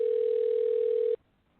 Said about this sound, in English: Right, I hear it ringing.